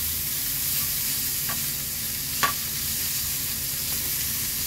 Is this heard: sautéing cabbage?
yes